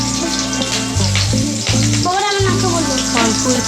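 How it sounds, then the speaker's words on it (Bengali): Boiled potatoes fry in hot oil in a wok, giving a bright crackling sizzle beneath someone talking over it. "কড়াইয়ে তেল দিয়ে দিয়েছি, তেলের মধ্যে সেদ্ধ করা আলুগুলো দিয়ে দেব,"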